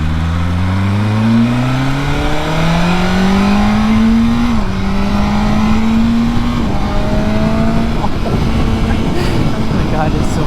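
A BMW M1000R motorcycle with a new slip-on exhaust accelerates hard through several gears, its loud close engine note climbing in pitch and dropping at each shift, with wind rush throughout.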